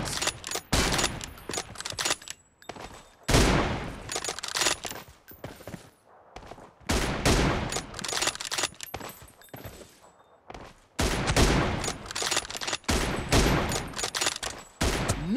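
Bursts of gunfire from a first-person shooter team deathmatch game, rapid automatic volleys and sharp single shots in irregular clusters separated by brief lulls, fairly quiet overall with no voices.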